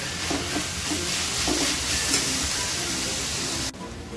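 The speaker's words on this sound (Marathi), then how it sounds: "आलं लसणाची पेस्ट चांगली जरा 2 ते 3 मिनिटं चांगली परतून घ्यायची" Ginger-garlic paste sautés in a pan with onion, making a steady, fairly quiet sizzle and a few soft stirring scrapes.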